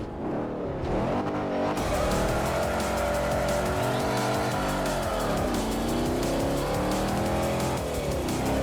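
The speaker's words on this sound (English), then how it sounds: "This is a rear wheel drive V8 powered muscle car." A V8-powered rear-wheel-drive Chevrolet Chevelle SS muscle car in a racing video game, engine droning loud and steady with rising and falling revs, tires squealing now and then, and no break throughout.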